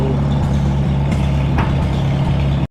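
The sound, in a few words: engine started without choke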